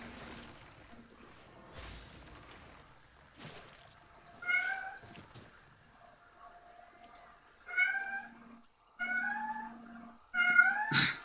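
Cat meowing sadly indoors, a run of drawn-out, wavering meows coming in several separate bouts, close but fairly soft, with light keyboard tapping and clicking between them.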